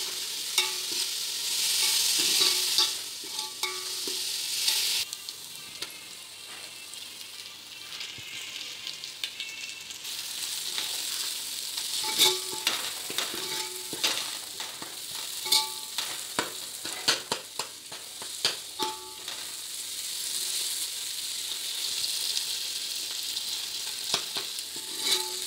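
Ground onion paste sizzles steadily in a pan while a spoon stirs and scrapes through it repeatedly, giving a continuous fry with irregular scraping clicks.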